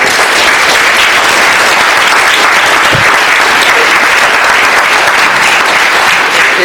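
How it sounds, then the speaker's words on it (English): Loud, sustained crowd applause for coaches and teachers at a championship round event, dense clapping holding steady and close for the whole stretch. "Can you give your coaches and your teachers a quick round of applause?"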